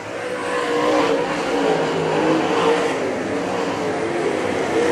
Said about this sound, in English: Eric Spangler pulling out by multiple car lengths at an arm's length over Donor Marcoullier